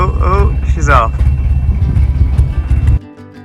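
A narrowboat's diesel engine runs with a steady, deep, loud rumble on a winter morning. Voices talk over it at the start, and the engine sound drops away sharply near the end.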